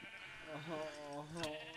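Sheep bleating in Minecraft: a couple of short wavering baas in quick succession, close and moderately loud, with a brief click near the end and faint background noise.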